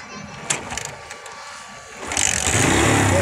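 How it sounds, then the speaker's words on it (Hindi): A Bajaj Boxer motorcycle fitted with an on/off button cranks and catches near the end, growing into a steady, close idling engine after some faint clatter and a voice. "भाई स्टार्ट करो गाड़ी को।"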